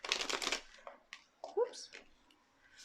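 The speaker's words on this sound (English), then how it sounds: "Just another shuffle." A tarot card deck is shuffled in quick riffling bursts close to the microphone, mixed with someone talking softly.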